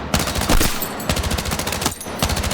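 Rapid SMG bursts in Battlefield 6, several loud close strings of automatic fire separated by short pauses, each crackling at a fast even rate.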